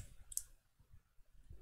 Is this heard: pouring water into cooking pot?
no